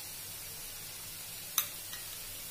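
Onions sizzle steadily in a pan for aloo cutlets as spices go in, a soft even frying hiss with one brief clink partway through.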